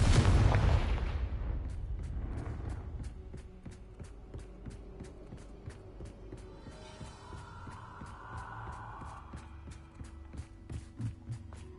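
Bombarda and Confringo spell blasts in Hogwarts Legacy: a loud booming explosion opens, then a long rumbling decay under a run of steady rhythmic clicks and smaller crackling impacts.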